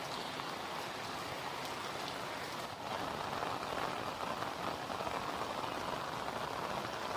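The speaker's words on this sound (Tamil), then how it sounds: "வெளியில் வந்து நல்லா மழை பெஞ்சிட்ருக்கு" Steady rain falling outdoors, a dense continuous patter on surfaces, even and moderately loud throughout with no voices.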